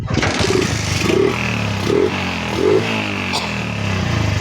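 A Suzuki Shogun motorcycle engine, repaired after a misfire and delayed throttle response, runs close by, idling with a few short revs that rise and fall in quick succession.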